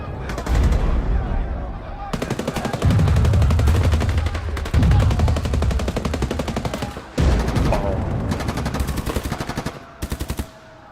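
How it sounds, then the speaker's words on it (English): Grenade launcher firing during a battle in the video game Escape from Tarkov: loud, close, sustained rapid fire in long dense bursts with brief gaps, continuing for several seconds. "Grenade launcher!"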